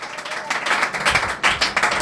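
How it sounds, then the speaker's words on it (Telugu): A church congregation claps loudly at a gospel gathering, bursts of applause swelling and easing in uneven waves over two seconds, with a few voices mixed in. "గట్టిగా చప్పట్లు కొట్టి దేవుని మహిమపరచు"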